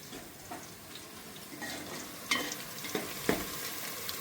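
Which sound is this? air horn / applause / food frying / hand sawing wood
food frying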